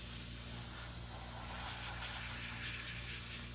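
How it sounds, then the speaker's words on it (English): An airbrush sprays paint onto a plaster and foam Jason Voorhees wall hanger, giving a steady, continuous close hiss with a low hum beneath it throughout. "Spray the residual paint in here just to get"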